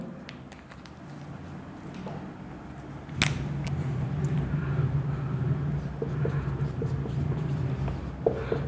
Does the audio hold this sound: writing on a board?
yes